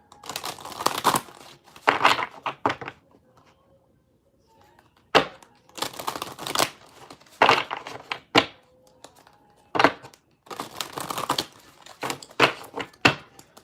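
A deck of cards is shuffled in repeated bursts, crisp riffling rattles and snaps close to the microphone, separated by short pauses and sharp taps.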